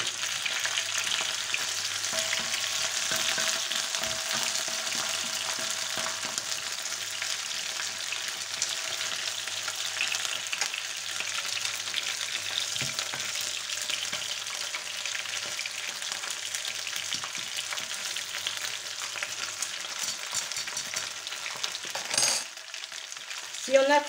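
Olive oil sizzles steadily in a pan for a homemade paella, a dense continuous frying hiss with occasional stirring scrapes, fairly close, no talking, ending with a brief clatter.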